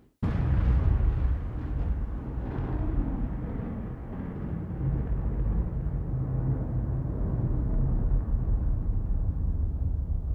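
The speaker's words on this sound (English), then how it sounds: "I'm sure you can hear how windy it is." Strong wind roaring across the open Nevada desert backcountry, a continuous loud broadband rumble with gusty buffeting that holds steady for the whole stretch, with no voices.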